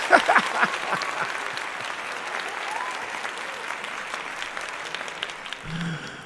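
Steady, full applause from an audience fills the space, strongest at the start and then holding even, with a brief low voice near the end.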